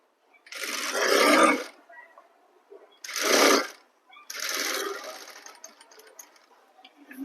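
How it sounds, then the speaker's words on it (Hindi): A sewing machine runs in three bursts while stitching a suit, with short pauses between runs; the whirring motor is close and fairly loud, with no talking. "यहाँ पे इस सुई को बिल्कुल खड़ी कर देंगे और इस तरफ आएंगे सिलाई लगाते हुए।"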